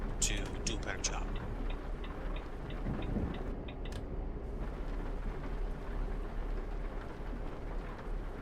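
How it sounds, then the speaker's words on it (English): Steady rain on a truck in a driving simulator game, a constant close hiss with faint rhythmic ticking and a few brief taps near the start, under soft background noise. "The rain in the sim really makes you use your windshield wipers."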